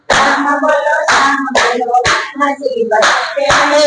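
Both hands clap in a steady, even rhythm, about two claps per second, keeping the beat under a loud sung Gujarati children's chant.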